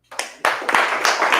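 Audience applause breaking out at a real estate talk, a burst of many hands clapping that starts sparse and quickly swells into steady, dense clapping.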